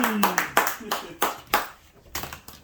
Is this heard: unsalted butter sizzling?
no